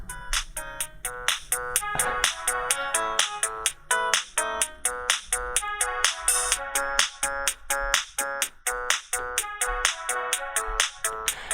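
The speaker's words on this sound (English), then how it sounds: "I mean, to be fair, it was a pretty cool ringtone." A Sony Ericsson T610 mobile phone plays its polyphonic ringtone, a bright, rhythmic synth melody with punchy repeating beats and chords that loops steadily and fairly clearly, with no voices.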